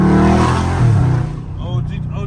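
Catless Dodge Scat Pack engine revving, a loud, close, deep exhaust roar that eases off over about two seconds, with faint voices near the end.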